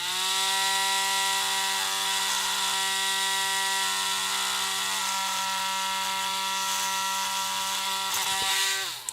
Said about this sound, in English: Something feels funny on my Dremel, man. It's like just buzzing.